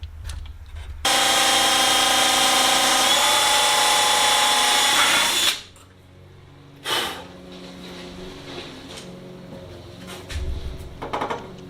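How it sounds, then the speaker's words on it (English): A power drill whines steadily for about four seconds as it bores pilot holes up into the upper spar of a Sonex aircraft fuselage tail cone, then stops, leaving quieter shop noises and a few knocks. "get up in there and drill the pilot holes up into the"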